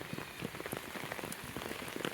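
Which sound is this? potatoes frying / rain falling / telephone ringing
rain falling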